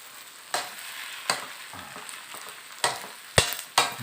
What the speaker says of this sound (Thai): เราผัดเยอะเราก็ใช้เวลานานหน่อยเนาะ